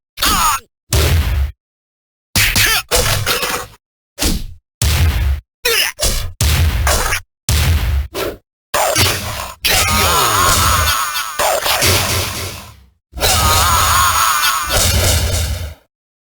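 Tekken 3 fighting game combat with King: a rapid series of hard hits, thwacks and whooshing strikes with grunts, coming in loud bursts separated by short silences, then longer sustained stretches of impacts.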